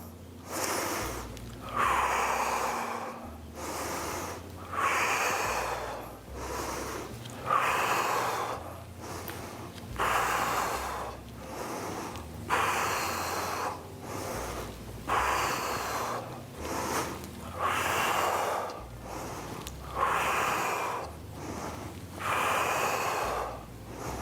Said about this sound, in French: On inspire sur la descente et on souffle sur la montée. On inspire, on expire.